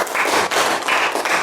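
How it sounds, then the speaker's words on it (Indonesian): A classroom of students claps for a presenting group, a short burst of close, brisk clapping that swells in uneven waves. "Kasih tepuk tangan buat kelompok Putri."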